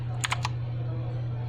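A few quick clicks of keys pressed on an Ant Esports MK3400v2 mechanical keyboard, a short cluster of sharp taps over a constant low electrical hum.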